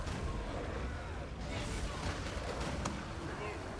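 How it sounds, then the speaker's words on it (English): A main cannon fires in the Guild Wars 2 video game, heavy booming blasts over a constant rumble of battle effects, fairly loud and dense throughout, with a voice talking. "Firing main cannon."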